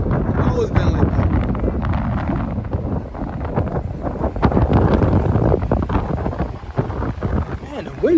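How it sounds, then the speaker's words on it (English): Strong wind buffets the microphone on a cold January street on New York's Upper East Side, a steady loud roar that drowns nearly everything else, with traffic noise faint underneath. "the wind is kicking around here"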